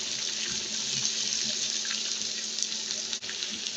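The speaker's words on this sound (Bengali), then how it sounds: "এখন আমি এই পেঁয়াজ আর রসুনগুলো ভালো করে ভেজে নেব।" Chopped onions and garlic frying in a pan for a dried-fish bhuna: a steady, bright sizzling hiss runs continuously and close, with a few faint ticks and no talk.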